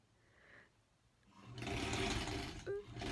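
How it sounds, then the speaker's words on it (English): A sewing machine stitches fabric for a granny-squares quilt block, starting after a quiet lead-in and running as a steady, fairly loud mechanical whir with a brief dip near the end. "See if it even feeds through the machine."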